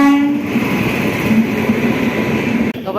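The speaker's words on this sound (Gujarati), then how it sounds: "વચમાં ફટાકા આવે છે અને ભાઈ ટ્રેન જાય તો જ આપણો ભાઈ વારો આવે નીકળવાનો" A train rumbles past close by, a steady heavy roar with a brief horn blast at the start and faint rhythmic clatter of the wheels.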